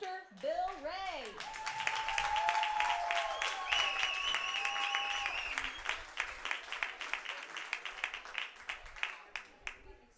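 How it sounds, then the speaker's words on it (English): Audience applause and clapping for a photographer at a Pratt vs Hillsboro sports event, swelling into a dense sustained round, then thinning into scattered claps, with voices and some whistling under it. "give a hearty round of applause for, and that is for our ever-dedicated, amazing photographer, Mr. Bill Ray."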